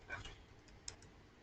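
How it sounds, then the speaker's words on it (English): A few faint keystrokes on a computer keyboard, spaced out and quiet against a soft room hiss, as someone types a search into a web browser. "let me just open up my Google Chrome and then type"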